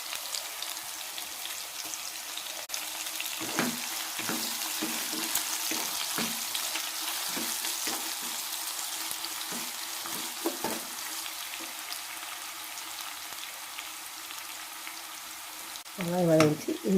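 Onions sizzle steadily in a hot pan with occasional scraping stirs while cooking rava kichadi, and a voice briefly cuts in at the very end.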